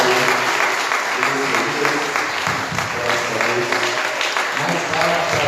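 Church congregation applauding in sustained, loud, dense clapping that continues evenly throughout, with voices faintly mixed in the crowd.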